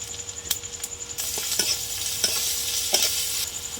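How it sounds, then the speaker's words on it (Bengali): A spoon scrapes and stirs a frying masala of onion, ginger-garlic paste, turmeric, coriander and cumin powders, cinnamon, cumin seeds and tomato paste, steady sizzling under repeated sharp clinks against the pan, with no one talking. "মশলাটা আমাদের ভালো করে কষা হয়ে গেছে"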